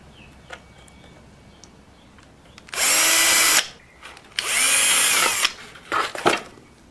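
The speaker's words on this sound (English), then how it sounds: "Just drilling 2 holes in the card." A power drill with a 3/32-inch bit bores two holes through a card, two steady whirring bursts of about a second each, close and loud, with a faint spin-down after.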